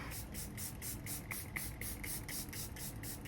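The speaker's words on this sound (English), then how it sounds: "I'm gonna use the Charlotte Tilbury Airbrush Flawless setting spray." A Charlotte Tilbury Airbrush Flawless setting spray mists out in about a dozen quick, close pumps, each a short airy hiss repeating at a steady rhythm, with no talking.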